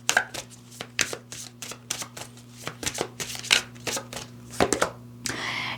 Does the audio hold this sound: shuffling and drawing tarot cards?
yes